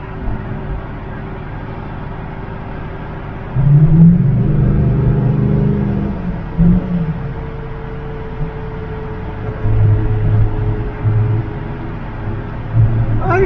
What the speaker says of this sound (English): Must be running alright if he's taking the risk of revving it up.